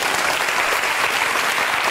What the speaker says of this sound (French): Des applaudissements pour cette jeune fille.